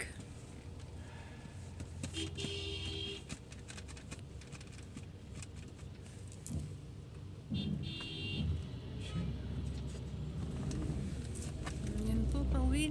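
Evening road traffic in Kuwait hums as a car heads home, low engine rumble swelling slowly with passing vehicles, heard from inside the car with quiet talk mixed in.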